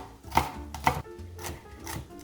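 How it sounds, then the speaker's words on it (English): Knife chopping asparagus on a cutting board, two crisp close cuts followed by softer, quicker chopping, with no one speaking. "We cut off the woody stems and then chop it fine"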